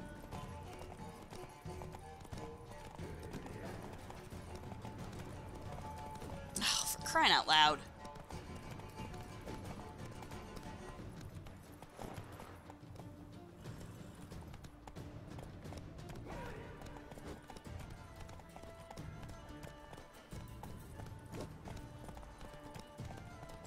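Horse hooves clip-clop through a chase in The Witcher 3, a steady mid-distance gallop running under near-constant talking and game music, with a brief louder burst partway through.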